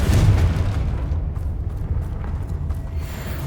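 A Confringo explosion spell in Hogwarts Legacy gives a heavy, booming blast with a deep rumbling tail that fades slowly, loud and near, with no talk over it.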